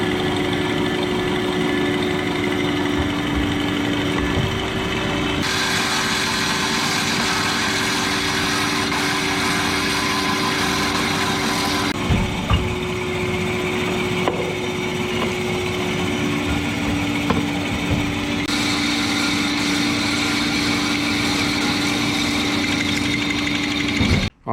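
A CNC lathe cuts a metal pin in a workshop, a steady loud mechanical hum with a sustained tonal whine that shifts in pitch as the cutting passes change, with occasional clicks.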